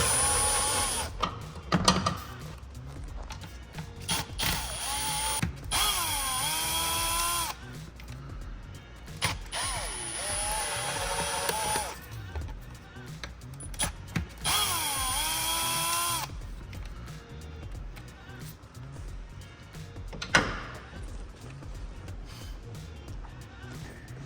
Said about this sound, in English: we can undo the 4 6 millimeter hose clamps right here on top